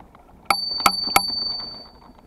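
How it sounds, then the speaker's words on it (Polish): A handlebar bell on a RockRider mountain bike rings three quick, bright dings in a row, close and clear, the last chime fading out over a quiet trail. "Dzwonię dlatego, bo jak dzikie zwierzęta są jak dziki łosie, to jak usłyszą dzwonek, to spierdzielają."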